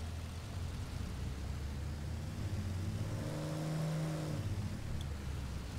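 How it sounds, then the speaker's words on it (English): A small airplane's engine runs up on the ground before takeoff, a faint hum that swells into a rising, whirring tone for a few seconds and then settles back, heard from inside the cockpit. "Do a quick run up"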